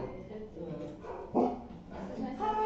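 Several household dogs bark loudly at a front door as visitors arrive, the barking coming in bursts up close while people talk over it.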